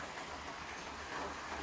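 Light, steady rain falling outdoors near a stream, a soft continuous hiss with a faint low rumble underneath, even in level throughout and with no voices.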